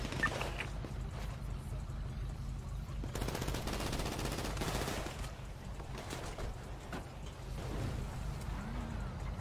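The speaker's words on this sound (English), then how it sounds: "We're shooting each other, bro." Automatic gunfire in the survival game Rust, a fight near an arcade, with bursts of rapid shots ringing over steady game background noise, heaviest through the middle of the stretch, with faint voices now and then.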